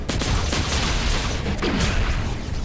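Gunfire in the video game Fortnite during the Zero Point event, with dense rapid shots and booms layered into a loud, continuous barrage throughout.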